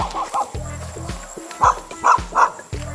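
Short, sharp barks from a dog on a 2.3-hectare farm in Lopez, Quezon, a few in quick succession, over a steady low rumble of background noise.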